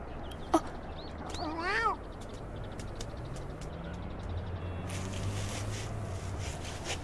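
A cat gives a sharp short meow followed by a longer drawn-out meow, fairly close, over a constant low hiss of room noise.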